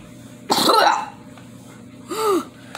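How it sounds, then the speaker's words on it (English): Two short, sharp bursts, one followed by a higher squeaky tail, sounding like an odd sneeze, over a quiet background hum. "That was the weirdest sneeze I ever had."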